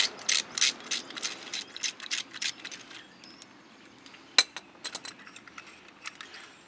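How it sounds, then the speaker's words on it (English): An Allen wrench unscrews a brake caliper bolt on a Harley Davidson, giving a run of quick metallic ratcheting clicks close by, then scattered sharper clinks and taps. "I'm going to take this bolt completely out."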